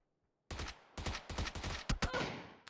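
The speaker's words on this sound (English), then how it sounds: "Getting shot at now." Gunfire in the battle royale game PUBG breaks a near silence with a rapid series of sharp, loud shots in quick bursts that trail off into echo.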